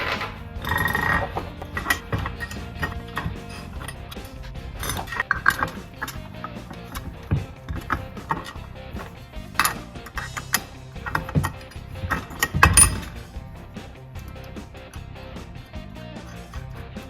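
Clutch weight pins and nuts being fitted by hand onto a Polaris Xpedition clutch, heard as scattered close metallic clinks and taps of small parts with no talking.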